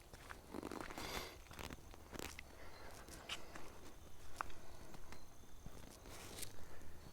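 Footsteps crunch softly along a dirt path in a forest, an irregular run of faint, close steps in quiet surroundings with no talking.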